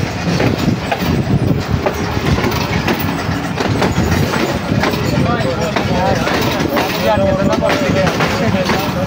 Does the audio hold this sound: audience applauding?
no